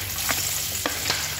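Chicken feet fry in hot oil with a steady, dense sizzle and a few sharp crackles and stirring scrapes, close and continuous with no talking.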